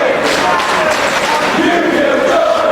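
A wrestling crowd in an arena roars and chants loudly and continuously, a dense wash of many voices shouting together throughout.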